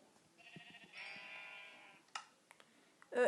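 A sheep bleats in the Minecraft video game, two drawn-out harmonic bleats back to back at moderate volume, followed by a few short clicks and a louder burst of game sound at the end.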